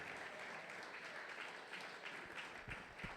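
A church congregation applauds throughout, a dense, continuous wash of clapping from many hands at moderate distance, fairly soft in level and without a break.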